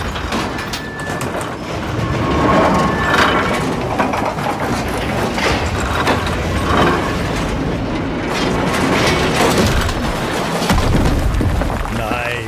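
Bomb units blow up in a Lost Ark battle inside a mine, heard as a dense, continuous rumble of booms and crashing debris, loud and sustained, with a player talking over the din.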